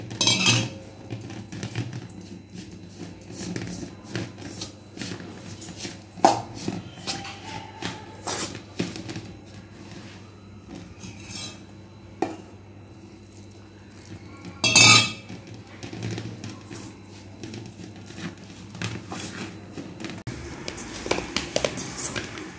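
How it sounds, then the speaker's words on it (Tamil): Palm-sugar syrup is gradually mixed into kozhukattai dough for a Tirunelveli palm-leaf sweet, with soft squelching kneading, utensil clinks and a few sharper knocks against the bowl, close by and moderately quiet throughout. "கட்டி விழாமல் பிசைஞ்சுக்கோங்க."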